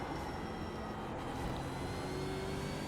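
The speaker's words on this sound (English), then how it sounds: "you can really hear the tires scrub. So you can hear that kind of dull scrubbing that they do" Car tires scrubbing while racing in the iRacing simulator, a steady dull roar of engine and road noise that runs unbroken throughout, loud and continuous with no talking.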